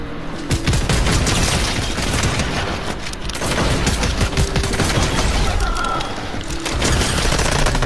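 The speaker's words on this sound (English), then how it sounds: "Hit him with a sniper." Constant, loud gunfire in Fortnite, sniper shots among dense overlapping bursts that sound like a sustained fusillade with machine-gun rattle filling the whole stretch.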